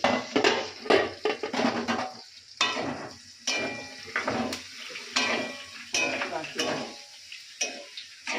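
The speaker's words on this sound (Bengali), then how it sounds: "আমার লুচিগুলো ভাজা হয়ে গেছে আর এখানে আমার ফুলকপি আলু ভাজা হয়েছে" Luchi and cauliflower-potato fry being cooked in a home kitchen, with stirring and utensil clatter in repeated bursts over a steady frying sizzle, fairly close, no talk.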